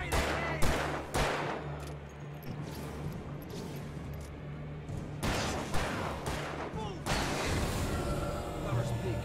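Gunshots in the video game Alan Wake Remastered, with loud, sharp single cracks at irregular intervals and a few clustered volleys over a steady low game hum.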